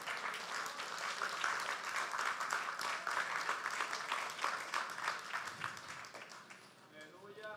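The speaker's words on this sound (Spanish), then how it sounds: "Denle un aplauso al Señor." A church congregation at a Spanish-language worship service claps together in steady, dense applause for several seconds, with voices calling out underneath as it gradually thins toward the end.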